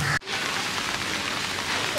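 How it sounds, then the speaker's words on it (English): Rain falls steadily on a waterproof car cover over a Honda City, a dense, even patter and hiss heard up close. A brief dropout comes at the very start, then the rain continues unbroken. "You can see finally it has started to rain, and let's see how much waterproof it is."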